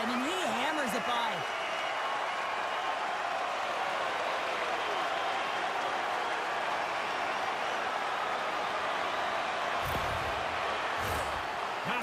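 Arena crowd noise in the NHL 26 hockey video game, a broad, steady roar of cheering that fills the whole stretch, with a commentator speaking over it and a few brief thumps near the end.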